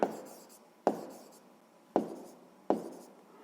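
Four sharp pen strokes tap down on paper, each followed by a short scratching trail, evenly spaced and close by in a quiet room while numbers are written out by hand.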